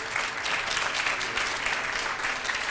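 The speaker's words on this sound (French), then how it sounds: "Merci, on vous applaudit." An audience applauds at an engineering-of-the-future awards ceremony in 2015, a dense, steady wash of many hands clapping throughout, loud and continuous with no voices standing out.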